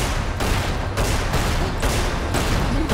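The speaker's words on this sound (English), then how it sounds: "Oh, my gun sets people on fire!" Rapid, loud gunfire from the player's fire-setting gun in the video game Magicka pours out in dense repeating bursts with brief gaps and no pauses between volleys.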